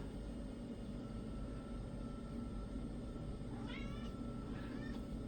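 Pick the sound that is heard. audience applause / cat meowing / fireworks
cat meowing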